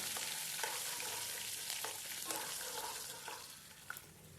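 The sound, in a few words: ginger, garlic and green chili frying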